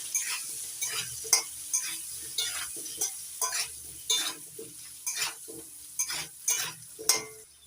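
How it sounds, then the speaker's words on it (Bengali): Potato pieces tossed with turmeric and salt in hot oil, stirred in steady repeated scrapes and sizzles every half second or so, close by, without talk. "আর লবণ দিয়ে এবার নাড়াচাড়া করে লালচে করে ভেজে নেবো আলু দিয়ে"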